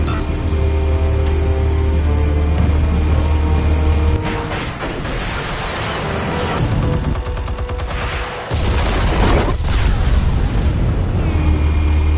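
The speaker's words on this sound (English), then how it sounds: "Explosives armed. Fire when ready." Armed explosives detonate in the Batman Telltale game, loud booming blasts with crackling bursts and rumble, shifting through several heavy impacts over a dense game soundtrack.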